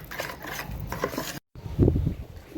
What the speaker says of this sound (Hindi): इसको भी हम अच्छे तरीके से मिक्स कर लेंगे।